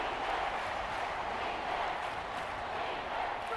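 Dense, steady roar of a stadium crowd in an American football video game, a constant wash of many voices and noise at moderate loudness with no distinct individual sounds standing out.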